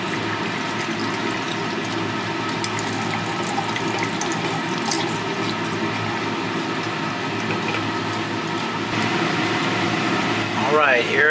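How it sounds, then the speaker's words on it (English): Distilled water pouring steadily from a tap or container in a lab setting to dissolve ammonium chloride, a continuous rushing flow lasting throughout. "I'm going to add some distilled water,"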